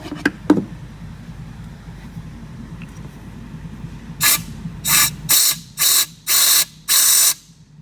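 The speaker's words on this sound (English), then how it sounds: "if I get my air nozzle and I blow into this" Compressed air from a nozzle blown into a BMW trunk drain, with a few sharp clicks and knocks followed by five loud hissing bursts in even rhythm, close by and with no talking.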